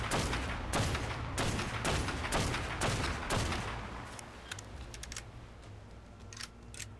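Gunshots in Ark Survival Evolved strike a Giganotosaurus in a rapid steady volley of loud booming blasts, about eight in the first half, then trailing into lighter scattered impacts and rumble, with no talking.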